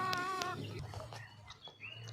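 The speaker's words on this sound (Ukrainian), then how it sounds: "Ось чуєте, наші поросята чують мене і вже кричать" Piglets on a farm squeal in a couple of short, shrill, harmonic cries near the start, followed by scattered fainter squeaks and grunts over a low steady hum, moderately close with no speech.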